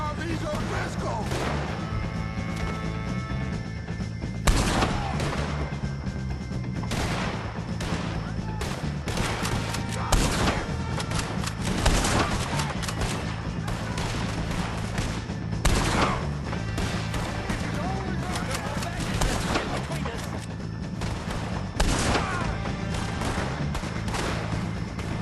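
A shootout against O'Driscoll gang members in Red Dead Redemption 2, with loud rifle and pistol shots cracking out repeatedly at irregular intervals over a continuous din of gunfire, and voices heard now and then.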